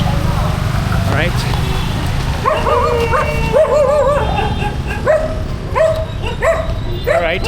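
Several street dogs bark and yip in short bursts on a road in Bengaluru, loud and close, mixed with a person talking over steady outdoor street noise.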